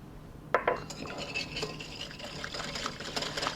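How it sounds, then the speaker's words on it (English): A whisk scrapes and clinks against a bowl as sugar is beaten into whole eggs for crème caramel. Quick metallic taps and rattles come close but fairly quiet, with no talk. "Whisk vigorously"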